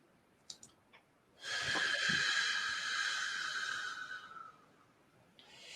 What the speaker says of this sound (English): close your eyes and take a deep breath